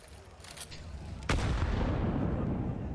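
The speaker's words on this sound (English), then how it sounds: "It's a really good nade" In a Counter-Strike esports match, a grenade goes off with a sudden sharp boom midway, followed by a rumbling wash of noise, after faint quieter gameplay sounds.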